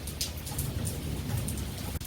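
Heavy rain pours during a big thunderstorm, a loud, constant wash of drops with a low rumble underneath and a sharp tick near the end, close and uninterrupted.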